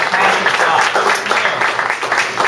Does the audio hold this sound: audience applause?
yes